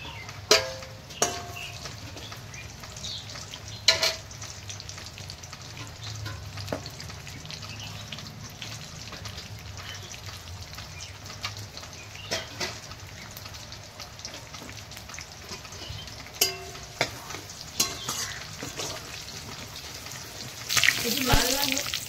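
Dried red chillies, Bengali five-spice and bay leaves frying in hot oil give a steady low sizzle throughout, with occasional sharp clicks and pops and a louder crackling burst near the end.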